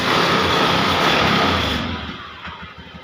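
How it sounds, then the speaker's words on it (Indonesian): A Honda Beat scooter engine with a starter problem runs after starting, a close mid-pitched engine hum that loudens briefly and then settles lower toward idle. "Oke, di sini motor sudah hidup."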